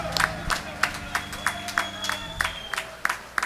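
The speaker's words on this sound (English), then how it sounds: "let's give him a round of applause." An audience at a calypso show claps in a steady, rhythmic beat of distinct claps, with some speech mixed in.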